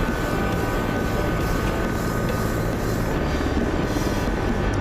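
A helicopter drones steadily in a combat video game, a dense, unbroken rotor and engine roar that stays loud and even throughout.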